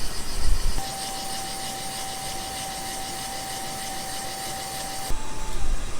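A valve seat cutter machines the exhaust valve seats of a rebuilt 1968 Firebird 350 cylinder head, producing a steady high whine that holds for several seconds over a rough grinding noise, then shifts pitch briefly near the end.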